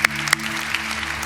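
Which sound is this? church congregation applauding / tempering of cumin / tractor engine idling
church congregation applauding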